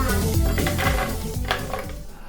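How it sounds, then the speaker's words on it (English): Ice cubes dropped into a blender holding a banana blueberry smoothie mix, giving a quick scatter of hard clinks and clatters up close that settle toward the end, with no talking. "Ice is frozen water. Let's add that in."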